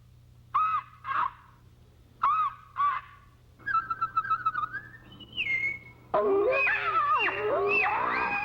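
Contestants at a bird calling contest imitate birds with their voices: short paired whistled calls, a quick trilling burst, a rising whistle, then a dense mix of overlapping warbling calls; loud and close, no speech.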